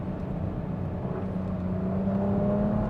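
A 2026 Nissan Rogue SV engine accelerates from inside the cabin, a steady drone that climbs gradually in pitch over a low rumble of road noise, with no talking.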